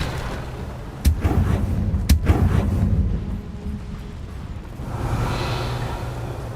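A Revelio spell in Hogwarts Legacy pulses out with two sharp magical bursts followed by a low whooshing shimmer, then a softer swelling rush near the end, loud and close.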